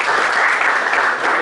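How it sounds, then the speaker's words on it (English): An audience at a professional seminar on GSTR 9C filing gives a round of applause. Dense, steady clapping from many hands fills the short moment, loud and close, with no talk over it. "a big round of applause to all of you"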